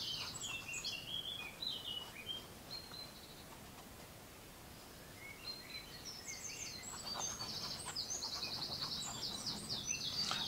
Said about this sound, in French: Vous entendez les oiseaux?